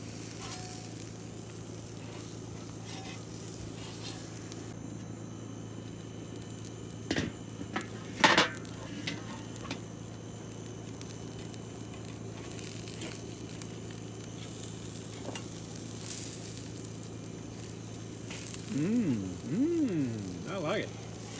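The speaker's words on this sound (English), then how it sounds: "Pompanos are cooking right along here." Pompano fillets fry in a hot pan at an outdoor market, giving off a steady, close sizzle that runs throughout, with a few clatters midway and voices rising briefly near the end.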